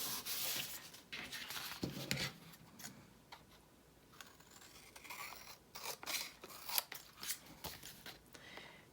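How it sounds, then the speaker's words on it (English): Scissors snip through vintage children's reader pages, trimming off excess paper for handmade pockets and tags, with a series of close, crisp cuts and soft paper rustles. "now trimming off the extra"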